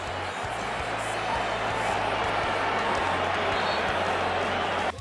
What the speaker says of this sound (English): Real Madrid fans applauding